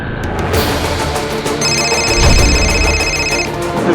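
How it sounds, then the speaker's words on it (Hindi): A phone rings loudly with a repeating electronic ringtone that keeps going unanswered over a background hum. "वीरू फोन क्यों नहीं उठा रहा है ये?"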